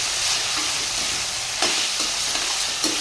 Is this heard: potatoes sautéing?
yes